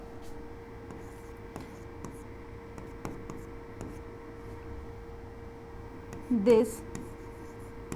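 A marker or chalk writes an answer on a board during a maths lesson, giving faint scratchy strokes under a low steady hum, with a short louder scrape near the end.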